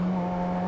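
Motorcycle fitted with a stubby exhaust, engine held at a steady, loud, throaty drone for a brief moment with no talk over it.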